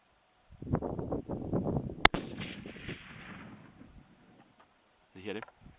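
A single sharp rifle shot cracks out at a mule deer during a Wyoming hunt, ringing and echoing across open ground after hushed nearby talk.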